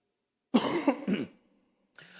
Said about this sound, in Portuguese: eu estou tossindo ainda